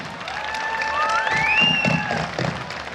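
A large crowd at an outdoor concert event claps and cheers for itself, a dense steady wash of applause with a rising whistle-like tone cutting through the middle.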